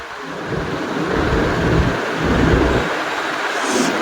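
Steady heavy rain with a deep rolling rumble of thunder swelling and fading throughout, a dense continuous roar on a rainy day with no voices.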